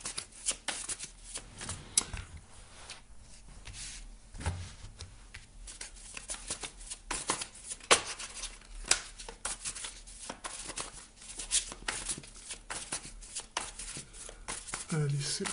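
Tarot cards shuffled by hand before a reading make a continuous close riffling and flicking, with frequent crisp snaps of the cards, running under someone talking in French throughout.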